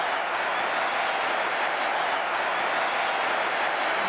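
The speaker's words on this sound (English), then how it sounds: "the home crowd and manager give him applause" Steady, dense crowd applause with no gaps, like a large stadium audience clapping together, from a home football crowd at a Manchester United match.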